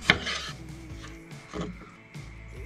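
A knife cutting through a lime on a board for a mojito, two sharp chopping knocks about a second and a half apart, close and quiet, with no voices.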